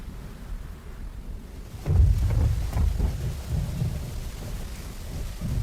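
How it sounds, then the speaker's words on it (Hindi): A summer afternoon thunderstorm over the South Dakota grasslands, with a deep rumble of thunder rolling in over steady, heavy rain, low and booming and fairly distant, with no voices. "दोपहर की गर्मियों में अक्सर काले बादल छा जाते हैं और मूसलाधार बारिश होने लगती है।"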